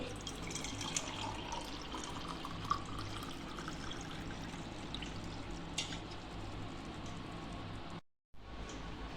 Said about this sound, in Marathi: आपली साखर वितळून आता आहे ना मी हे गाळून घेते